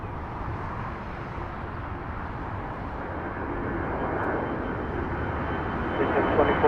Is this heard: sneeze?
no